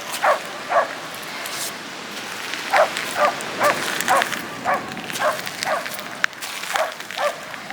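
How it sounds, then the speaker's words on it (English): On a Pembrokeshire beach in Wales, a dog barks repeatedly in short bursts at a moderate distance, over steady surf and wind noise, with occasional yips between barks. "we've got one dog on the beach and it's a noisy one"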